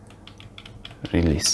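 Several quick key presses on a computer keyboard while typing an ipconfig command into a Windows command prompt, a light close clatter, then a voice speaks over the last moment.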